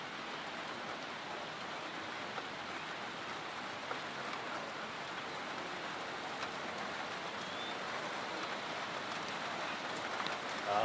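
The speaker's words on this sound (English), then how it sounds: "A little bit of rain here in Northern coming through, a bit of sprinkle." Light rain sprinkling outdoors at a rural sheepdog trial, a soft, steady hiss of fine drops with no voices, holding an even level throughout.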